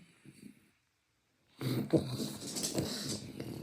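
A hungry pug whimpering and begging indoors, soft snuffly whines and snorts close by, a brief quiet gap, then denser breathy whimpering and wheezy sniffing continuing to the end.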